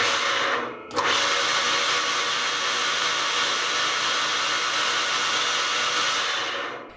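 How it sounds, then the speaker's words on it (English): An electric motor on a scrapyard-find machine under repair runs steadily at close range with a loud, even whirring hum, starting just after a brief dip and holding constant until it fades at the end. "The motor turns in the wrong direction."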